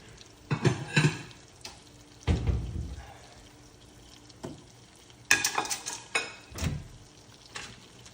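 Steak cooking in a pan for lunch, with soft sizzling broken by several louder scraping and stirring bursts of utensil against pan, close and irregular, no talking.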